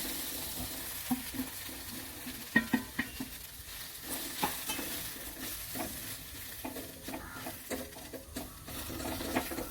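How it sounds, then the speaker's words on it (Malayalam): Onions and tomatoes sizzle softly as they sauté in a pan while a utensil stirs them with repeated scraping and tapping. "സവാളയും തക്കാളിയും നന്നായി വഴന്നേ ഇനി നമുക്കിതിലേക്ക് മസാല ഇടാം"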